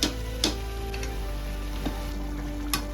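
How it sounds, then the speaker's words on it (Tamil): Tomato thokku bubbling and sizzling in a pan, a steady frying hiss broken by sharp pops and spatters at irregular intervals, close and fairly loud. "தக்காளி நல்லா கொதிக்கிற சவுண்டு கேட்குது."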